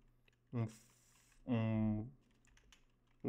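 Light clicks from typing on a computer keyboard fall between bursts of someone talking close to the microphone.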